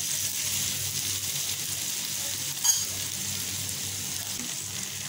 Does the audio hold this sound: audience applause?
no